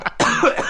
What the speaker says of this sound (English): is that an acting cough or is that a real cough?